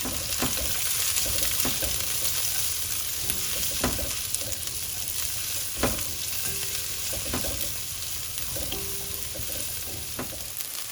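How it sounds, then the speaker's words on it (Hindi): Spring onion whites and mixed vegetables sauté in a hot pan for sweet and sour prawns in a Pakistani Chinese restaurant-style dish. A steady close sizzle carries occasional stirring scrapes and clinks, with no talking. "इसको सौटे कर लेते हैं अराउंड 2 मिनट"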